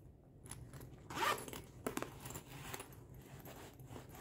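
A zipper on the back compartment of a mini convertible backpack is pulled open in quick rasping bursts, close and fairly quiet, with a few short ticks of metal pull and fabric between strokes.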